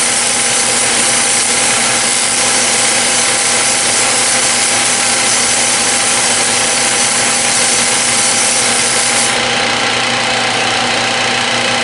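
Light sanding of a transmission clutch part with Scotch-Brite during an RE5R05A rebuild, a continuous loud, even abrasive rubbing hiss that runs steadily without breaks throughout.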